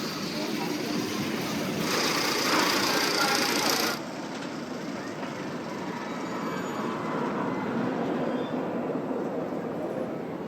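A roller coaster train rumbles along its track on the Zambezi Zinger at Worlds of Fun, a continuous rattling roar that swells for the first few seconds, then settles into a steady, close clatter.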